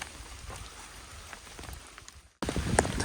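Heavy rain falls steadily on a mountain hike during a heavy-rain warning, a dense close hiss of drops that cuts out abruptly near the end before resuming just as loud.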